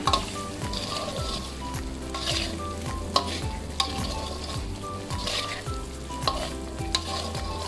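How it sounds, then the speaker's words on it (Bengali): Cumin powder and spices for a paneer kofta curry are stir-fried in a pan, with a loud, steady sizzle broken by regular, rhythmic scrapes of a spatula across the pan. "আবার একটু ভালো করে মিশিয়ে নেব অর্থাৎ কষিয়ে নেব"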